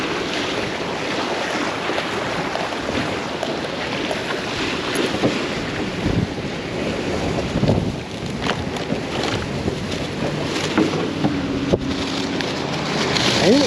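Strong wind buffets an open microphone on a windy April day of fishing from a boat on the water, a steady broadband roar with gusty swells and wave wash, loud and continuous with no talk.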